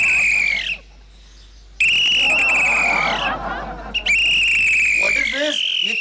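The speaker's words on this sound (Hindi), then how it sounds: "सीटी नहीं मारूंगा तो चोर को पता कैसे चलेगा कि यहाँ हेड वॉचमैन बैठा है?" A head watchman blows a whistle in shrill, sustained blasts, loud and close, with two long blows separated by short pauses and a final shorter blast.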